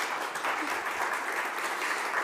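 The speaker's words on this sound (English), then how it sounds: "A warm applause from all of us." Steady applause from a room full of people, a continuous, moderately distant patter of many hands clapping with no pauses.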